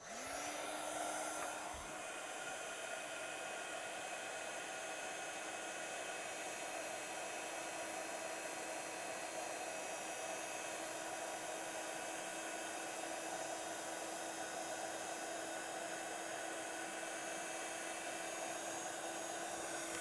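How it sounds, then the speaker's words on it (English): A heat tool blows hot air over an embossed card, a steady, strong whooshing hiss with a constant motor whine underneath that switches on near the start and then runs unbroken, with no voices. "And then we are going to take our heat tool."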